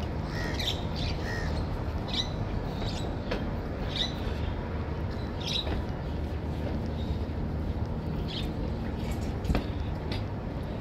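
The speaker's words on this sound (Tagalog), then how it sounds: "ingay mga ibon." Birds squawk and chatter near Sentosa in Singapore, scattered short calls ringing out over a dense, steady roar of outdoor background noise, fairly faint and spread across the whole stretch.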